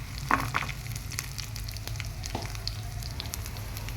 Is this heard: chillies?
yes